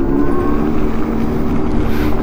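Revolt RV400 electric motorcycle giving off its synthetic engine sound, a loud steady droning hum with a faint buzzy pulse and some wind noise, heard briefly and close.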